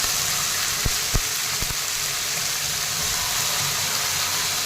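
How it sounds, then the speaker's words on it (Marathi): Garlic sautéing in a pan gives a steady, loud, close sizzle that fills the whole stretch, broken by a few brief knocks or taps of a utensil early on. "लसूण पण छान परतलेला आहे"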